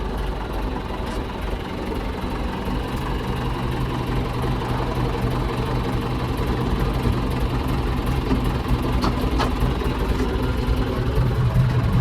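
A tractor engine idles slowly and steadily, a low continuous rumble with a faint knocking texture, unchanging throughout and with no voices.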